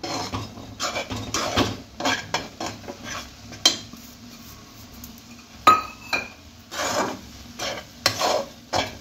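A spoon stirs and scrapes hard in a pot as rice flour is mixed into boiling liquid for dudh pitha, a sequence of close, rasping strokes with a few metallic clinks and no talk.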